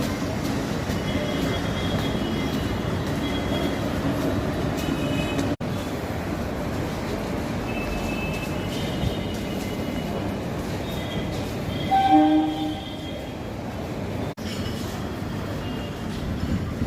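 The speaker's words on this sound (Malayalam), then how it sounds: "മാംഗ്ലൂർ ട്രെയിൻ ഉള്ളത് 4ാമത്തെ പ്ലാറ്റ്ഫോമിലാണ്." Railway station platform ambience with a Mangalore-bound train nearby, a steady low rumble and hum running throughout, with a brief squeal or horn-like tone rising near the middle.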